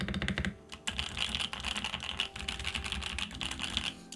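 Someone types fast on a modded Sam S80 mechanical keyboard, close up, producing a dense run of crisp clacky keystrokes with a few short pauses and no talking.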